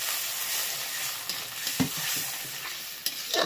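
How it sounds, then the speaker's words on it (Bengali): Spices sauté with a splash of water in a pan as the base for a tangra fish curry with winter vegetables, giving a steady hiss under several scraping stirs and a few sharper clacks near the end. "সামান্য একটু জল দেবো কষানোর জন্য"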